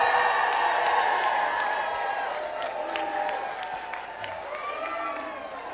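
An audience at an employee service day cheers and whoops for 25-year employees, a loud mass of shouting and applause that slowly fades, with a voice speaking over it.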